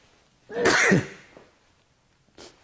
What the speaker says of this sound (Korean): 재채기가 나서 좀 이쪽으로 피해서 재채기를 했습니다.